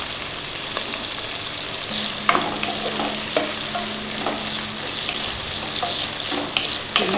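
A tempering of spices such as cumin crackles in hot coconut oil for a village-style palak chicken curry, a dense continuous sizzle broken by sharp intermittent stirring clicks and scrapes of a spoon.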